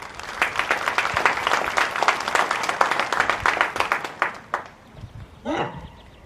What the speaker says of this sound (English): So a round of applause for these leaders as well.